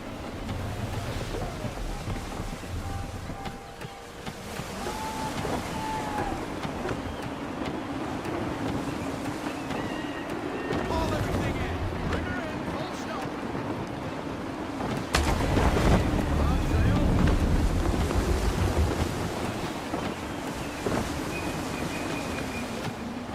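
Wind and waves rush steadily around a sailing ship at sea in Assassin's Creed III, with constant low surf wash, gusty wind noise and a louder swell building partway through, faint voices briefly audible.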